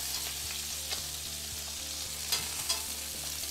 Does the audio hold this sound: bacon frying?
yes